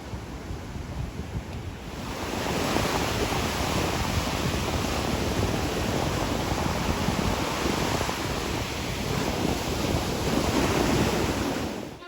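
Atlantic Ocean surf on the Delaware coast of the cape, a dense continuous roar of breaking waves mixed with wind buffeting, quieter for the first two seconds and then loud and steady throughout.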